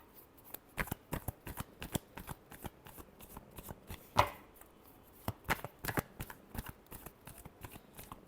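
Tarot cards being shuffled by hand, a quiet, steady run of crisp riffling flicks and soft slaps with one louder snap midway, close to the microphone and free of talk.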